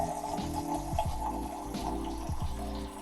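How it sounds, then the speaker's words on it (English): Excess water drains from a sprinkler bleeder cap into a cup, a continuous trickling and splashing pour heard up close and fairly quiet. "This is just the excess water that was inside."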